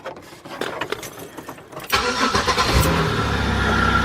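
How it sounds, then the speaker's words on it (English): A 2005 Chevy Impala with the 3.8 engine cranks and fires up close by, the starter catching and the engine settling into a loud, steady idle after a quieter lead-in. "Start the vehicle up."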